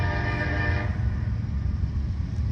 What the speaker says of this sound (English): you gotta excuse the freight trains coming through.